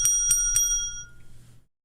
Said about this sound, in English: My bell is broken